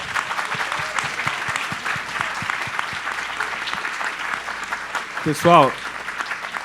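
An audience at a book fair, A Feira do Livro 2023, claps in a steady round of applause lasting several seconds, with a voice speaking over it near the end.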